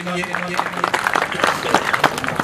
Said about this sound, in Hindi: बहुत सी तालियां